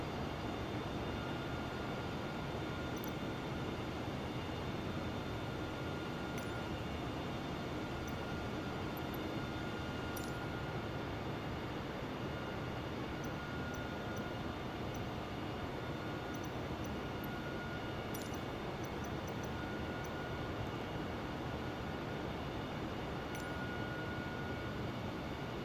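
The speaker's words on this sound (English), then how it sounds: "Nice rear view there of the jet engine" An Airbus A320 jet engine in a flight simulator game, heard as a steady, unbroken broadband roar that holds level for the whole stretch, with faint, sparse clicks high above it.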